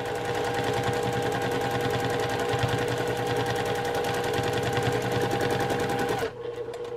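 A sewing machine running steadily through free motion quilting, its needle chattering fast and evenly up close before stopping abruptly near the end.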